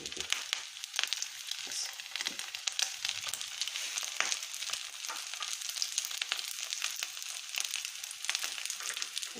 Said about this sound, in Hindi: ये देखिए ऐसे इनको करके हम ऐसे फ्राई करते जाएंगे।